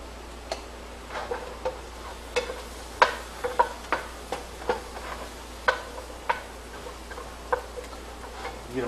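Onions and mushrooms sautéing in a pan for vegan pasta, heard as soft sizzling with a steady run of light clicks and taps from stirring, close and fairly quiet, with no voices.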